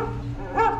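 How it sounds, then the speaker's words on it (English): A single short dog bark, close and clear, rising sharply in pitch out of a low background hum, part of the Walt Disney's Carousel of Progress attraction. "Don't worry, Rover. She didn't mean real dogs."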